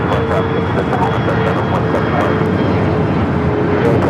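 An old America West Airbus A320 arriving at LAX sends out a loud, steady jet roar with a faint whining tone, constant and close throughout, with speech over it.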